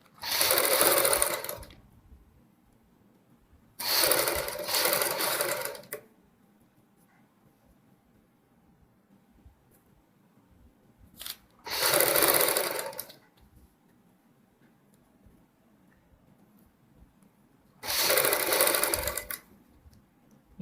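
A sewing machine stitches the curved neckline of a kurti in four separate bursts of rapid, buzzing stitching, each one to two seconds long, with quiet pauses between them and no talking.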